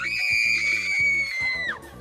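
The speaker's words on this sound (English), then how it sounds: "Just give us your best scream there." A man lets out one long, loud, high-pitched scream that holds steady before trailing off, while a crowd murmurs and shuffles quietly beneath it.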